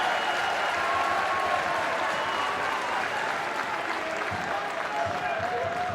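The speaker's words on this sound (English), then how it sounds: "Ironic cheer from the Cali Thistle fans behind that goal." Ironic cheer and applause from Inverness Caledonian Thistle football fans massed behind the goal at a Scottish Premiership match against Ross County, a steady broad crowd roar heard from a distance.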